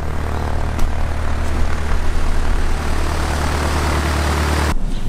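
A light aircraft's propeller engine, apparently a Cessna 152, runs steadily at an airport, a loud continuous drone that holds level before cutting off abruptly near the end.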